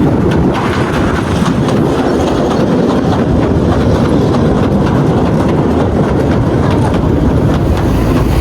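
Train running along Southend pier on the Thames estuary, a loud close rumble with continuous clickety-clack and rattling, steady throughout with no talk.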